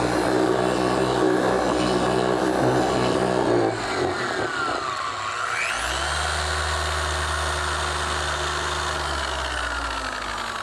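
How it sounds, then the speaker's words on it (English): A pad washer spins to clean a foam polishing pad: after some rumbling machine noise, a motor whines up in pitch and settles into a steady whirring hum that continues to the end. "we cleaned it with our pad washer"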